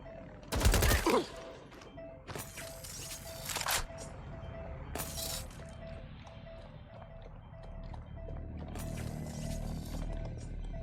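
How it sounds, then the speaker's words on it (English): Bursts of gunfire in Watch Dogs Legion, several loud separate volleys spaced a second or two apart, the first the strongest, over a steady background hum and low rumble. "Getting behind taking fire!"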